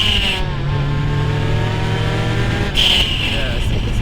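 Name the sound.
Mazda RX-7 FC pandem car accelerating hard in second gear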